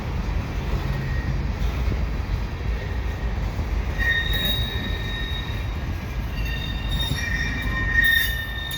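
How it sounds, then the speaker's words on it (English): A Quebec Gatineau Railway freight train hauled by three rebuilt ex-CN SD40-2 locomotives rolls past at a crossing, a loud continuous rumble of wagons with recurring high wheel squeals, near and steady with no talking. "The locomotives are all rebuilt SD40-2s"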